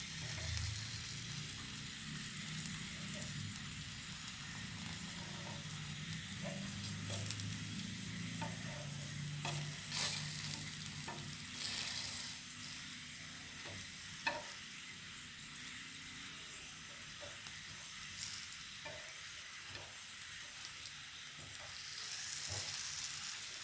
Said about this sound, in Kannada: ಒಂದೊಂದೇ ತಿರುಗಿಸಿ ಹಾಕು ನೋಡಿ ಹೀಗೆ ಫ್ರೈ ಆಗಿರುತ್ತೆ